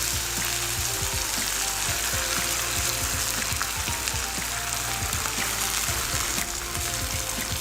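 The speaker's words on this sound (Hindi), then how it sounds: "ये एक मैंने प्याज ली थी, इसको मैंने ग्राइंड कर लिया था, अब वह हम इसमें डाल देंगे। इसको हम अच्छी तरह से मिक्स करेंगे।" Ground onion paste frying in hot oil in a pan for chana masala, a dense continuous sizzle with rhythmic scraping and clinking of a spoon stirring throughout, close and loud with no talk.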